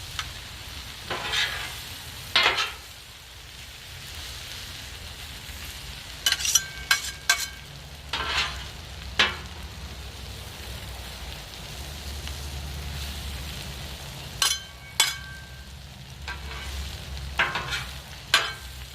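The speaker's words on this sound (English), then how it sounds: "our spinach is reduced by half, so we're just going to keep moving it around a little bit" Spinach sizzles on a Blackstone griddle with a steady soft frying hiss, while a spatula scrapes and taps the metal surface in scattered clusters, close and moderately loud.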